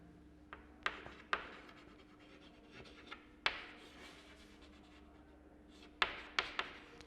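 A pen or marker writes on a board, a quiet series of scratchy strokes and sharp taps scattered irregularly over a faint steady hum.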